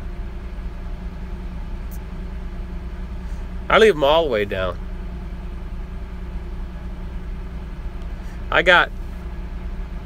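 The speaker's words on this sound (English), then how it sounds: "Get away from this running truck." Running truck engine idling nearby, a steady low hum with a mid-pitched drone throughout, while someone talks briefly over it in two short bursts.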